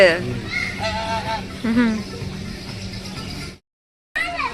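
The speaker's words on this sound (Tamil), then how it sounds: "எங்க பாத்தீங்க ஆஸ்ட்ரிச்? நீங்க கத்துது பாரு அது." An ostrich calling at Emirates Park in Abu Dhabi, a few loud honking, wavering cries close by, followed by a brief silence and one more call.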